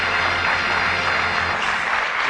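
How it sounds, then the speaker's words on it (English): Studio audience applause on a 1982 British Bullseye game show, a steady dense wash of clapping filling the whole stretch without any voices over it. "Give them a nice warm round of applause."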